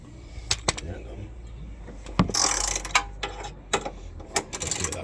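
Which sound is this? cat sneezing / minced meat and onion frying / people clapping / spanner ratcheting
spanner ratcheting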